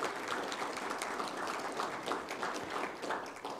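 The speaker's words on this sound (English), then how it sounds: "A round of applause for all these folks for their support." An audience at a river history conference claps in a steady round of applause, a dense patter of many hands at moderate level that holds evenly through the moment.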